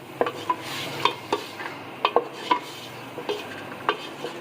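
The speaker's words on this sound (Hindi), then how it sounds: "अब इसे हम फ्राई कर लेंगे, इसका कलर चेंज होने तक।" Chicken pieces frying in hot oil over a low flame for chicken yakhni, with a steady soft sizzle under repeated stirring scrapes and light utensil clinks against the pot at close range.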